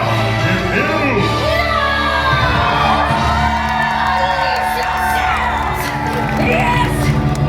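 An audience at a Disney villains stage show at Disney's Hollywood Studios screams and cheers loudly, with whoops and shouts building into a sustained roar from a large crowd.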